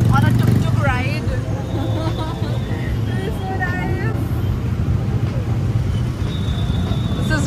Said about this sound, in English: Guys, we're finally on a tuk-tuk ride.